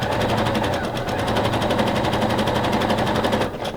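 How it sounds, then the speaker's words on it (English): A sewing machine stitches elastic onto bra fabric, running fast and steady with a dense, even mechanical chatter that continues unbroken for several seconds, close and alone. "stretch the elastic to the length of the fabric and just sew"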